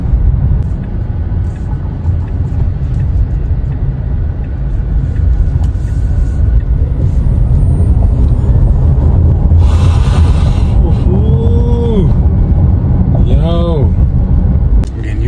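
A Dodge Dart drives along with a continuous loud road and engine rumble inside the cabin, while a few brief squeaks and tonal chirps appear near the end.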